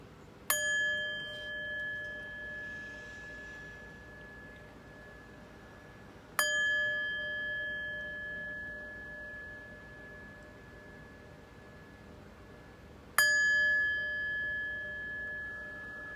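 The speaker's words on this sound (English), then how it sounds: "But first, let's chime." Three bright chime strikes spaced about six to seven seconds apart, each ringing out clearly in a quiet room with a pure sustained tone that fades slowly before the next.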